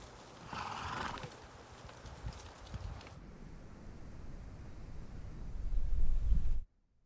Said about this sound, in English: he had a bunch of horses with him that day